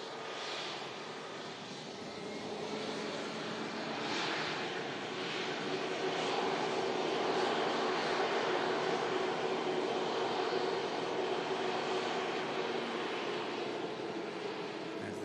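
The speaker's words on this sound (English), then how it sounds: "There's the Dreamliner about to cross." A Boeing 787 Dreamliner's jet engines drone steadily at Manchester Airport during a storm, a continuous broad roar that swells gently and stays prominent with no talk.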